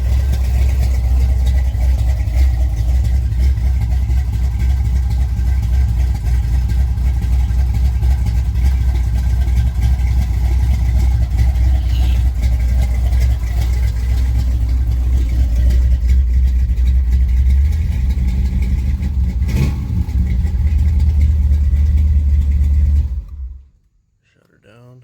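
A car engine runs steadily at a low rumbling idle for most of the time, with occasional talk nearby, then cuts off abruptly near the end, leaving quiet.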